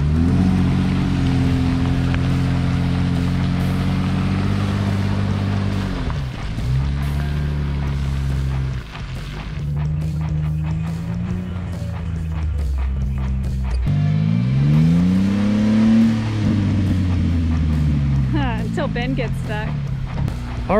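A Jeep reverses through deep, nasty Texas mud to pull another stuck Jeep, its engine droning and surging loudly as revs rise and fall, with mud and water slushing under the tires throughout.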